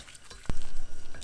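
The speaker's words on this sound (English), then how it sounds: "constantly stir this around until it browns" Food stirred as it browns in a frying pan over medium-high heat for Japanese omurice, heard as a sharp clack followed by continuous close scraping and sizzling.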